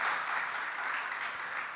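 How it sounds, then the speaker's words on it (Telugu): Congregation applause during a Sunday service at a Baptist church in Khanapur, a steady wash of many hands clapping that continues evenly throughout without talk. "కొట్టండి చప్పట్లు"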